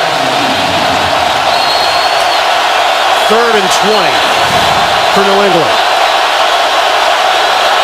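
A stadium crowd at an NFL game in Seattle, Seahawks hosting the Patriots, roars as a constant loud wash under a play-by-play commentator's voice.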